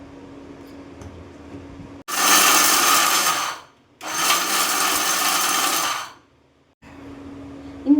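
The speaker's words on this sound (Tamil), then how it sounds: "இப்போ வந்து ப்ரௌன் சுகரையும் கொக்கோ பவுடரையும் வந்து பிளெண்ட் பண்ணுறதுக்கு மிக்சியில் போட்டு பிளெண்ட் பண்ணிக்கிறேன்" A mixer grinder whirs loudly blending brown sugar and cocoa powder, running in two bursts of about two and four seconds separated by a short pause, with quiet background hum between.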